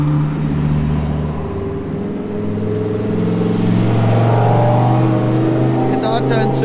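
A Lamborghini Huracan Super Trofeo idles and revs nearby, its engine note swelling steadily and loud throughout, with a brief high whine near the end.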